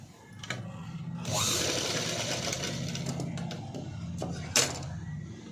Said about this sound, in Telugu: ఇలా నీట్గా బ్యాక్ కూడా స్టిచ్ అనేది వేసుకోవాలి